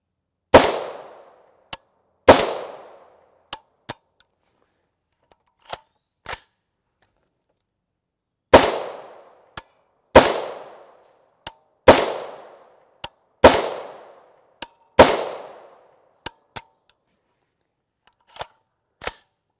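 Shots from a rifle firing subsonic 300 AAC Blackout 220gr OTM ammunition, about eight sharp cracks in irregular groups, each with a short decaying tail, interspersed with lighter metallic clicks and handling sounds.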